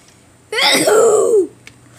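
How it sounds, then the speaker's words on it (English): One loud, sharp sneeze bursts out close by, followed by a brief quiet. "he sneezed again"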